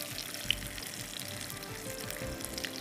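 Corn and methi seekh kababs shallow frying in a pan, a steady low sizzle with faint bubbling that runs throughout, with one brief sharp tick near the start and no talking.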